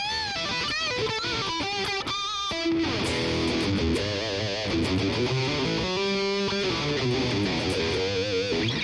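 Electric guitar plugged straight into a computer and played through the PV Revolver 4 amp simulator plugin gives a loud, dense, distorted tone. Chords and single-note phrases ring continuously throughout, with no talking.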